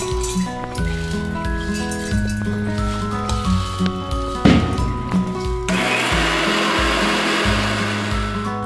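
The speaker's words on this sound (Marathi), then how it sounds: "तर हे वाटण आपण मिक्सरला फिरून घेऊया।" A mixer grinder whirs steadily as it grinds a spice paste for chicken masala, its motor noise turning rougher and harsher partway through.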